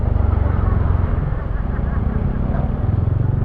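Several motorcycles ride together along Aguinaldo Highway, their engines giving a steady, loud, close drone with road rumble throughout.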